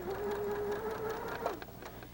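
A sewing machine chain-sews quilt pieces at a quarter-inch seam, making a brief, quiet, steady motor hum that slows and stops after about a second and a half.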